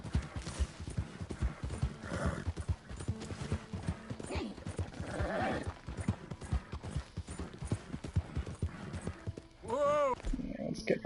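A horse clip-clops along in Red Dead Redemption 2, its hooves striking in a steady, fairly loud rhythm, with a whinny and some mechanical clicking; a voice talks over it.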